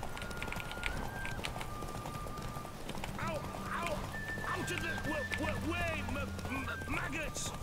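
A horse gallops in the open-world video game Witcher 3, rhythmic hoofbeats running steadily beneath game music and someone talking throughout.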